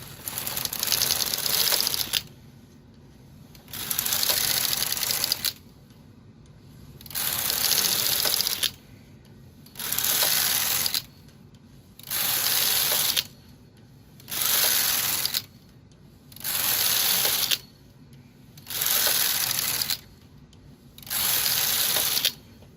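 A Brother KH910 knitting machine, with more stitches on the ribber than the main bed, knits rows of a sleeve. The carriage passes in a steady rhythm of loud bursts, roughly one every two seconds, with brief quiet pauses between them.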